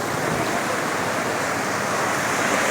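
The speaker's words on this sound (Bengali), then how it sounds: "অসাধারণভাবে ঢেউটা এসে গ্রাস করে ফেললো সমস্ত শরীরটাকে।" Sea waves breaking at the shore make a dense, steady roar of surf and spray, loud and close, with no voices.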